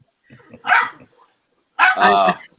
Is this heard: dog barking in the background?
yes